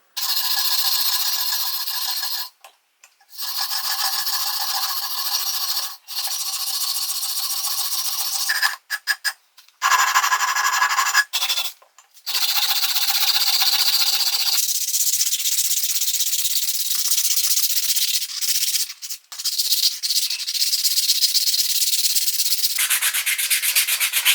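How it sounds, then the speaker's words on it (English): Sandpaper rubs over a hand-carved big swimbait lure in close, steady back-and-forth strokes, broken by several brief pauses. "now time to sand it"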